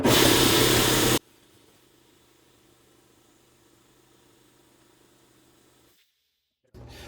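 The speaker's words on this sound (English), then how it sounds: "air compressor decided to come on right as I was getting ready to talk" A workshop air compressor runs as a loud, steady hiss for about a second, then cuts out to a low hum, falls silent, and kicks back in loudly near the end.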